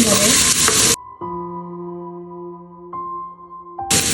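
Onions sizzling and spitting in hot oil with garlic-ginger paste, loud and close in bursts at start and end, with a steady tonal hum between them.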